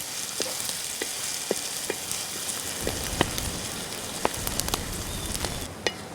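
Butter prawns fry in a pan over a village cooking fire, giving a close, steady sizzle scattered with sharp pops and crackles throughout.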